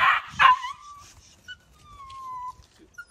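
A frightened Malinois puppy whimpers with a long, high, wavering whine, then a few short yips and barks, close and fairly loud, with pauses between the cries.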